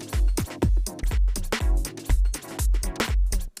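Electronic music track in Ableton with a beat repeat effect: punchy kicks and sharp percussive hits in a chopped, stuttering rhythm, loud and close with no talking.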